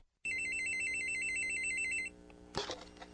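A telephone rings in one steady electronic burst lasting about two seconds, close and clear, then cuts off with a clunk as the receiver is picked up.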